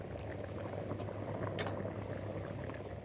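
Butter heating in a hot pan for an Egyptian fatteh topping with minced garlic and almonds, giving a steady, dense sizzle and bubbling hiss that holds even throughout, close and continuous with no talking.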